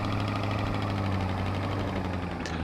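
A truck engine in Farming Simulator 22 runs steadily at a low idle, with a continuous rumble and faint mechanical knocking and no talk over it.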